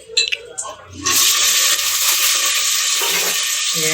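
Carrot, green chilli and onion dropped into hot oil for biryani, with a few clatters before a loud, steady sizzle of frying takes over and continues close up.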